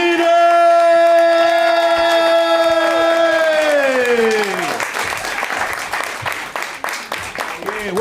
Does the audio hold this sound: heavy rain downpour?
no